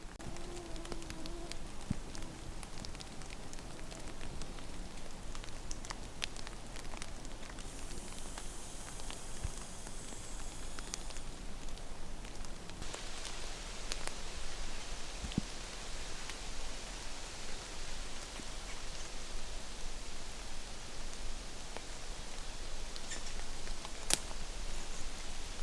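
Steady rain falling through wet woodland, a constant broadband hiss with occasional drips and faint bird calls, heard alone without talk throughout.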